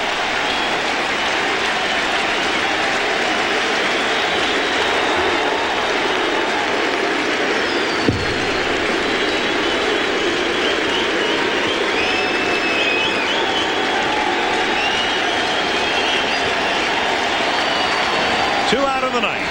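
Baseball stadium crowd at a 1995 MLB NLDS playoff game in Cincinnati rises and cheers, a dense, sustained roar of applause and voices filling the whole stretch, with a broadcast announcer's voice over it.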